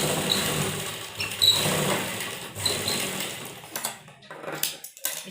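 A sewing machine stitches a seam on a one-year-old's baby frock, running as a steady mechanical whir for a few seconds, then stopping and starting in short bursts near the end, with no talking.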